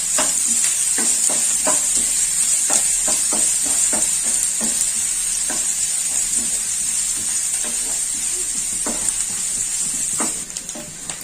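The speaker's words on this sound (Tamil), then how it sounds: "வெங்காயம் வந்து பச்சை வாசனை போகிற நல்லா வதக்கிடுங்க" Onions sauté in a hot pan with curry leaves, a steady bright sizzle broken by frequent scraping stirs of a spatula, close and continuous with no talking.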